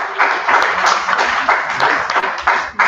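An audience at an academic congress session on biosemiotics gives a short burst of brisk, fairly loud applause, dense clapping pulsing for a few seconds before tapering off.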